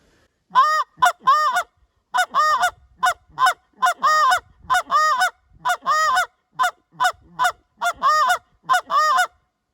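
A short reed Canada goose call blown in rapid bursts of sharp clucks run together with a drawn moan, loud and close, repeating in quick rhythmic groups with brief pauses.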